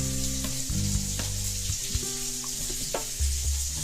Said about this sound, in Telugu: ఫిషెస్ అలా వేగుతున్నాయి